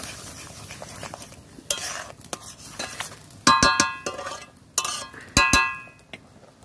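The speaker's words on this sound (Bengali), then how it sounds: "এই যে দেখুন চালের গুঁড়িটা আমি দিয়ে দিচ্ছি, দিয়ে এটাকে নাড়তে থাকবো।" Rice flour is stirred into boiling water in a pot while making aparajita flower pitha, with scraping spoon-on-metal clinks and knocks in uneven bursts, loudest in the second half, close and alone.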